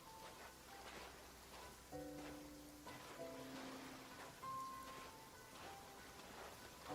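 Steady rain falls in Genshin Impact, a soft continuous hiss heard under quiet melodic game music with sustained tones, and no one talks.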